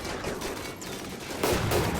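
Miniguns fire in a Rimworld battle, a rapid crackling fusillade of shots that swells louder in a dense burst near the end, with no voices over it.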